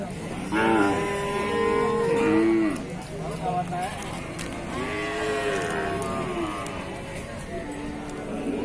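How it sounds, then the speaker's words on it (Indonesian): A cow mooing on a cattle farm lets out several drawn-out, loud moos, one after another, while people talk nearby. "Oke, di sini ada sapi indukan sudah laktasi tua"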